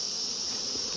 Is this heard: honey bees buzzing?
yes